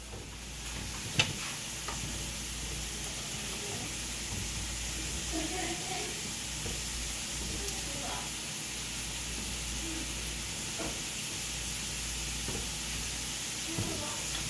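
Onions and garlic sweat in a pan over a low flame, giving a soft continuous sizzle with occasional scrapes and clinks of stirring, close and fairly quiet.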